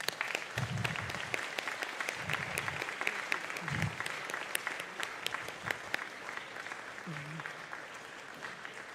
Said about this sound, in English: giving them a round of applause that is well-deserved